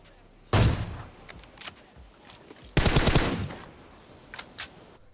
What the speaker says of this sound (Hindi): लेकिन ये M4 वाला न जाने कहां से गोली चला रहा है